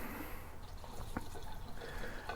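Fuel trickles slowly into the tank of a Stihl BR800X leaf blower, a faint, soft liquid pouring and dripping sound over a steady background hiss.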